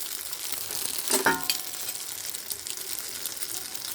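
Batter-dipped bread frying in a pan, a low steady sizzle with one brief louder crackle and splash as a piece goes into the hot oil.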